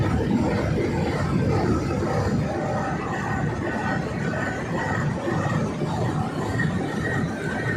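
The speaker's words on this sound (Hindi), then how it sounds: "ये हाल ही में अमेरिका से नए लिए गए engine GEU-20 2000 horse power engine है" Pakistan Railways Ravi Express with a new GE U20 2000-horsepower diesel locomotive waiting at Lahore Junction; a steady, loud diesel rumble runs throughout beneath constant crowd babble on the platform.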